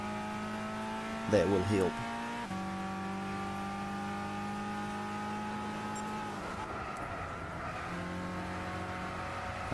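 A Volkswagen GTI VGT race car in Gran Turismo 6 holds a steady droning engine note with a brief rising rev and gear changes, while someone talks briefly over it.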